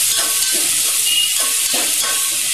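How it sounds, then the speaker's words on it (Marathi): Finely chopped onion sautés in hot oil with garam masala in a pan for mutton curry, a loud, steady close sizzle broken by periodic scraping stirs. "बारीक चिरलेला कांदा आहे हा, तो त्याच्यात 2 मिनिटं परतून घ्यायचा आपल्याला"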